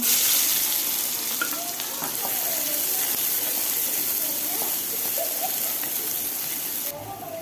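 Chopped onions and mustard seeds frying in a pan on a lowered gas flame for brinjal masala curry, a steady close sizzle with faint stirring clinks, running alone throughout.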